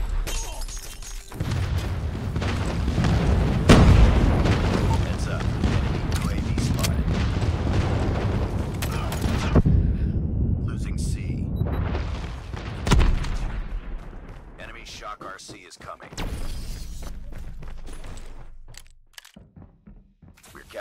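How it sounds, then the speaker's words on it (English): Airstrike explosions in a Call of Duty multiplayer match: a long stretch of heavy, rumbling blasts and crashing debris, loud and dense, that thins out and fades toward the end. "Enemy airstrike incoming."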